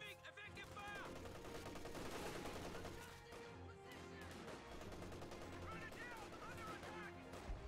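Bursts of MG34 machine gun fire and other gunfire crackle through a busy video game battle, fairly faint and mixed with game sounds and tonal effects.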